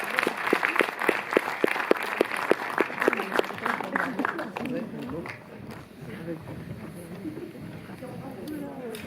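A festival audience at an award ceremony in a Montreuil cinema claps in steady, rhythmic unison for about four seconds, then the clapping fades under a voice speaking over the hall.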